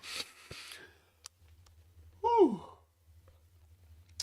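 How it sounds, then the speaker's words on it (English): A single drawn-out yawn with a rising then falling vocal sweep, close and fairly quiet, after a soft breath at the start. "so I'm yawning"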